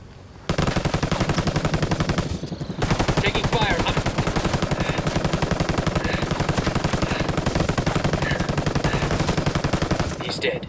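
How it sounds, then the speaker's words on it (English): Sustained rapid automatic gunfire from Ghost Recon Wildlands PVP sniping match, loud and continuous with dense bursts nearly throughout, briefly dipping before resuming. "Taking heavy fire"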